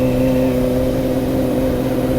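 A Kawasaki ZX25R inline-four motorcycle engine runs at steady high revs on a city ride, a loud, close, smooth buzzing whine with no talking.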